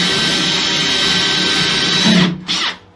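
A small drill bit bores holes through the wall of a micro house on wheels, the power drill whining steadily at close range before spinning down and stopping near the end.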